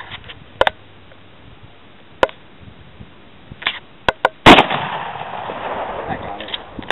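Outdoors, a Marlin 336Y lever-action rifle is fired at cans: several sharp, scattered cracks and clicks, then one loud shot midway with a lingering rumbling tail.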